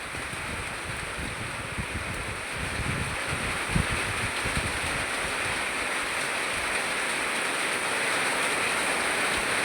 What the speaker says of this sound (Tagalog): Oh, gausok ang hangin, oy.